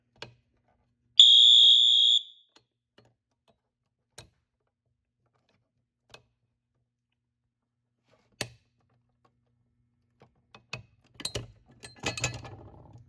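A shrill fire alarm sounds loudly for about a second, followed by scattered clicks and mechanical clatter in an otherwise quiet room.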